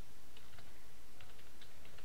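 Keys tapped on a computer keyboard while commands are entered into a terminal, a quick uneven run of close, crisp clicks with short pauses and no talk.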